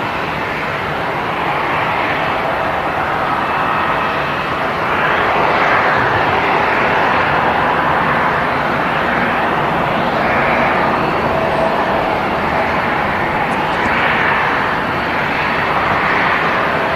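A KLM airliner's engines roar steadily at Manchester Airport, a loud, sustained broadband rumble with slow swells in intensity, no talk over it.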